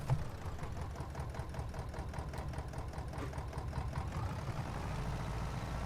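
A tractor engine idles steadily in Farming Simulator 22, a continuous low mechanical drone with a rhythmic chug that stays close and even throughout, with no voices.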